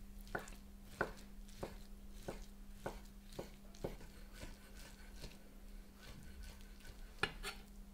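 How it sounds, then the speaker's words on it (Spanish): A knife chops 60 grams of smoked salmon on a cutting board with a steady run of crisp, evenly spaced taps, close and fairly quiet over a low constant hum, with no one talking. "Picamos bien 60 gramos de salmón ahumado"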